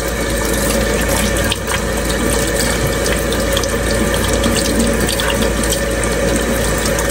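Vegetables are washed under a running kitchen tap while cooking shrimp sinigang, a loud, steady rush of water that continues unbroken and close by.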